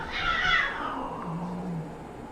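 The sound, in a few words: cats fighting and meowing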